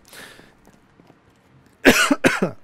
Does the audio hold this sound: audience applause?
no